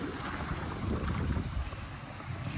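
Sea waves wash along a beach at Virac, Catanduanes, a steady broad roar of surf mixed with gusty wind buffeting the microphone, continuous and fairly loud with no voices.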